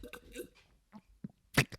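A woman's burp, a short loud gulping burst near the end after a few soft throaty hiccup-like noises, close and intimate, with quiet breathing between.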